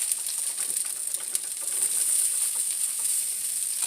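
Salmon patties frying in olive oil give off a steady, bright sizzle and crackle that holds close and even throughout, with no talking.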